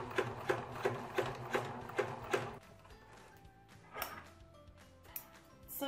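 Sewing machine stitching down a tutu skirt waistband gives a run of quick, regular mechanical pulses up close, then slower, scattered clicks and a few louder taps.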